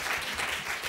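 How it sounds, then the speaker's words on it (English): Brief burst of audience applause for filmmaker Lisa Russell at an arts and development talk, a steady wash of clapping that stays even throughout and fairly quiet, with no voices over it. "Lisa Russell, everybody, round of applause."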